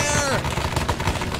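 Gunfire crackles in the Vietnam War video game Mikeforce, rapid overlapping shots and bursts loud and close across a short stretch, with a voice shouting over the start of the firing.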